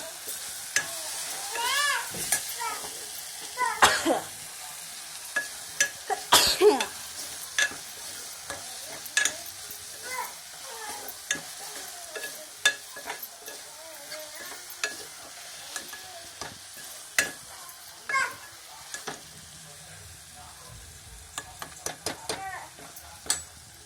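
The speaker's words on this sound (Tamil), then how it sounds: "தக்காளி வெங்காயம்லாம் ஓரளவுக்கு அதாவது நல்லா வதங்கி வந்துருச்சு" Tomatoes and onions sauté in a pan, a steady soft sizzle broken by repeated sharp scrapes and clinks of a spoon stirring against the metal, close and fairly quiet throughout.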